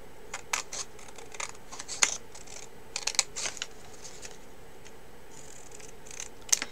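Scissors trimming around cut paper pieces for a handmade book-style card, a series of faint, quiet snips spaced irregularly over a soft background hiss.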